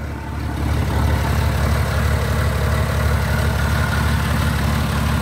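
The Perkins diesel in a 1964 Morris dropside lorry idles close by with a steady, rhythmic low chug that settles into an even beat after the first second, no talk over it.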